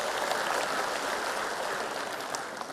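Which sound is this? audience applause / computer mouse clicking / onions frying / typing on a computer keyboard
audience applause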